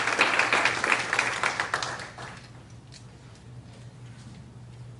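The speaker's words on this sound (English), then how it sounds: "Let's give him a round of applause" An audience at a school board meeting claps for about two seconds, a brief, moderately loud burst that thins into quiet room hum.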